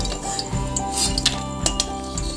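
Fried lentil dumplings are lifted from a pan of oil onto a plate, with metal utensils clinking and scraping against the pan over a steady background sizzle, close and fairly loud.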